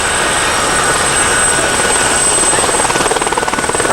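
An aircraft on landing approach at the 1995 Leicester Airshow, gear down, with a loud steady engine and propeller drone close by, taking on a pulsing throb toward the end, no talking.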